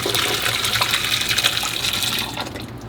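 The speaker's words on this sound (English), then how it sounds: "Now we're gonna baptize it with our broth, spice, and giardiniera mixture." Broth, spice and giardiniera mixture pouring over a chuck roast in a small hotel pan, a loud continuous splashing gush for about three seconds that tapers off at the end.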